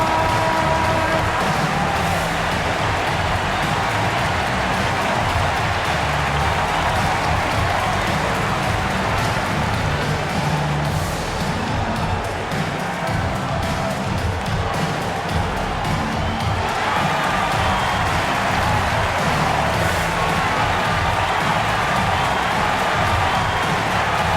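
Simulated basketball arena crowd in an NBA 2K game, Heat at Bulls, cheering and applauding steadily during T-shirt time, a dense continuous roar of many voices with scattered whoops throughout.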